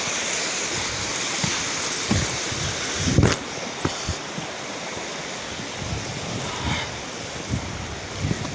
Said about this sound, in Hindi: ये पानी दबा के बह रहा है यहाँ पर,